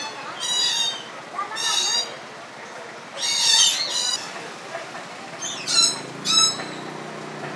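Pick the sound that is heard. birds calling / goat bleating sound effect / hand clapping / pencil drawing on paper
birds calling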